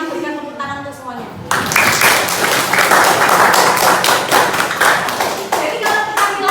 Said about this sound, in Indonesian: mari kita berikan tepuk tangan untuk semuanya.